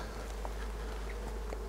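Honey bees buzz around a beehive entrance at the close of the season, a constant low hum with faint individual buzzes passing near the microphone.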